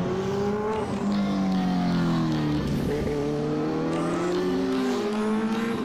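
Green Kawasaki Ninja heavy motorcycle racing on a track in Karachi, its engine droning loud and close with pitch sliding up and down through gear changes, accompanied by other bikes' engines and a brief tire squeal.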